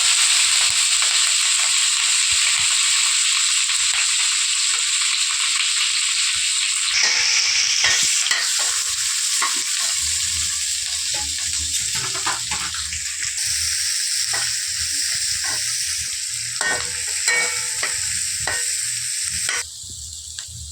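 Sliced onions, green chillies and curry leaves sauté in hot oil for a dhaba-style chicken curry, a steady close sizzle broken by scraping stirs of a spoon against the pan.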